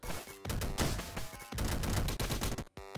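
Rapid continuous gunfire bursts from shooting at a snail in the video game Downwell, dense and loud with brief gaps, filling the whole stretch.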